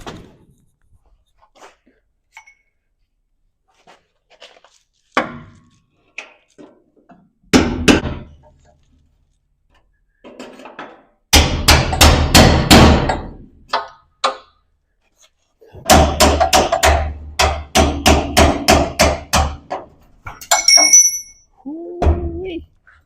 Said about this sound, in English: I drilled the spot welds, so I'm gonna tap them out with the hammer and chisel